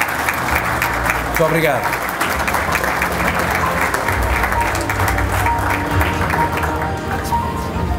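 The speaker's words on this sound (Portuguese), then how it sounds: "Uma salva de palmas para todos os que se candidataram também a esses prémios" Audience applause at a mobility awards gala, a full, sustained round of clapping filling the hall for several seconds, with someone briefly speaking over it.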